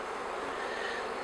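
Honeybees buzzing around a hive during a queen change, a dense continuous hum of many insects, close and steady for a brief moment with no talk.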